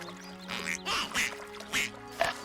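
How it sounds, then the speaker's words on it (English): Turtle ducks from the animated series Avatar: The Last Airbender quack repeatedly, several short nasal quacks in quick succession over a soft tonal background. "there's the duck turtles"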